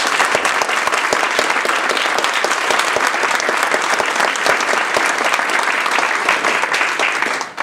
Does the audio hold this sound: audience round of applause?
yes